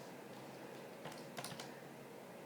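A few quick taps on a calculator keypad entering a logarithm, soft close clicks bunched together briefly over a faint steady hiss, with no voices.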